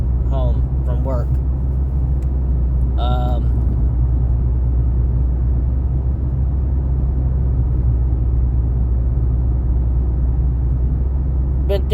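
Car driving home on the road, a constant low interior rumble and road drone heard from inside the cabin, with a person talking over it.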